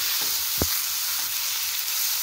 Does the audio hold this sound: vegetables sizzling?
yes